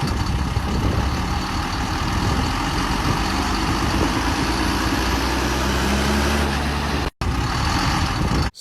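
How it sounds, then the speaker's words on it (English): A farm tractor pulling a trailer runs with a loud, steady diesel engine rumble that stays close and continuous throughout, cutting out briefly near the end. "using some of his equipment, the tractor and that trailer behind"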